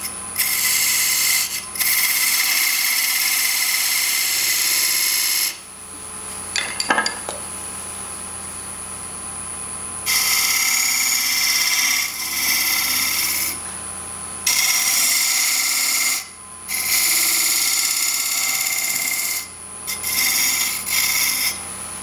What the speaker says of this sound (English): So I'll slow my lathe speed down to around 300 RPM.